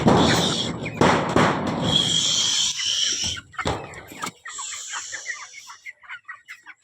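Domestic chickens on a backyard farm cluck in quick, repeated bursts near the end, following several seconds of loud rushing noise and a brief rustle, the calls close and uneven.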